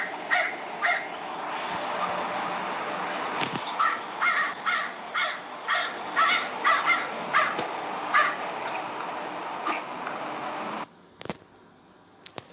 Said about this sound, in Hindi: Yes, this is the sound of crows.